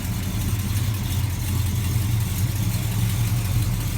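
A 1968 Dodge Charger with a carbureted American V8 idles close by, giving a loud, steady, low rumble with an even lumpy pulse and no talking over it.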